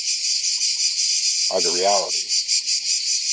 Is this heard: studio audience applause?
no